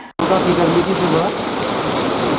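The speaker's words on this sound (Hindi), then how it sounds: "दोपहर को अचानक तेज बारिश हुई और इस तेज बारिश से मौसम बिल्कुल ठंडा हो गया" Heavy afternoon rain comes down in a dense, steady roar that starts abruptly after a brief gap and stays loud and constant throughout.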